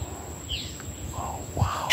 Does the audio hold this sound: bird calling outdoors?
yes